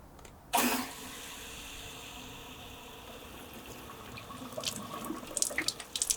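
Rusty water gushes out of an old radiator from a Talbot Express motorhome, starting with a sudden splash and settling into a steady running pour, with spattering and dripping building toward the end.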